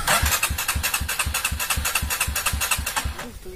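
A stalled motorcycle engine in a forest being started, with rapid rhythmic cranking and sputtering pulses that stay steady and close before fading out at the end.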